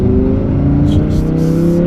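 A Lamborghini Huracan Evo RWD engine hums at moderate revs while shifting through the gears, a close, steady, strongly harmonic drone with a brief higher whir near the middle.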